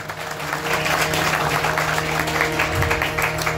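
Applause from an audience at a devotional santvani music gathering at Masani Dham, Junagadh, a steady broadband clatter of many hands filling the whole stretch at close, even loudness with no clear voices.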